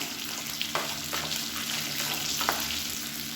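Steady sizzling of tomatoes sautéing in a pan, with a few soft scraping stirs breaking through the hiss.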